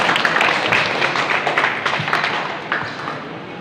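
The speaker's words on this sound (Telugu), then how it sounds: "గట్టిగా మీరు గట్టిగా చప్పట్లు కొట్టుకోవాలని కోరుకుంటున్నాం" An audience at a hemophilia society gathering claps together, a dense, loud patter of many hands that gradually thins and fades over a few seconds.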